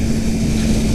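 Kawasaki Ninja 400 twin engine held at 7,000 RPM in third gear at about 45 mph, a steady, loud, smooth drone with a constant hum and rushing wind noise throughout, no voices.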